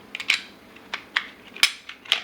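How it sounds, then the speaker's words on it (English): Metal parts of a Glock 34 pistol click and clack as the slide is taken down, a handful of sharp, close, irregular snaps with quiet between them. "So we'll go ahead and take the slide down"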